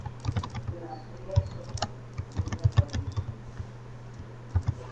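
Keystrokes on a computer keyboard while a PowerPoint quiz is being built, a close, irregular patter of clicks in short bursts and pauses over a steady low hum, with no speech.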